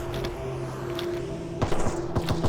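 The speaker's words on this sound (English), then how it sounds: "Sounds like gunfire out there already." Bursts of distant gunfire in the game S.T.A.L.K.E.R. Anomaly crackle over a steady electronic hum, a few scattered shots first, then a quicker volley of sharp pops near the end.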